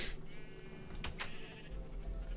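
Sheep bleating in Minecraft, a single faint wavering bleat near the middle of a short stretch of quiet game ambience.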